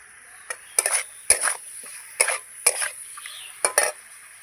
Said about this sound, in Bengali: ভালো করে নেড়ে চেড়ে নেব।